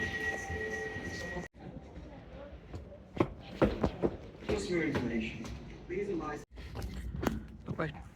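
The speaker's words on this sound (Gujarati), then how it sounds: "ટ્રેન ઊભી જ છે" Train standing at a platform at Willesden Junction station in London, with a steady rumble and brief sharp clanks and bangs as people talk nearby over the station noise.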